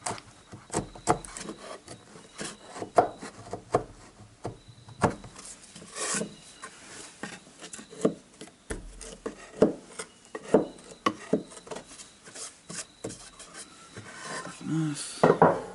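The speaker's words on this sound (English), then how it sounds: "I'll just draw around the inside edge and chisel that out" A chisel pares out scrap wood for a rustic farmhouse table base, producing close, irregular scraping and tapping strokes with sharp knocks scattered throughout.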